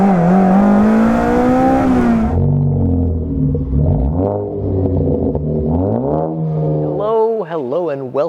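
Honda K20 engine in a swapped Toyota MR-S revving hard, climbing to a high wail, dropping, then blipping repeatedly in rising and falling sweeps, loud and close.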